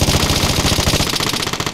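Rapid bursts of automatic gunfire in the Vigor video game, loud and close, firing continuously for nearly two seconds with a steady rattling rhythm.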